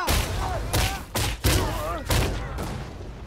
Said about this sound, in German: hast du eine Bombe nach mir geschmissen?